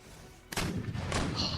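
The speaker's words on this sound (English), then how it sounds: "our cannons are still firing" Cannon fire in the strategy game Empire: Total War, a sudden loud booming blast followed by a rumbling second volley against steady battle noise.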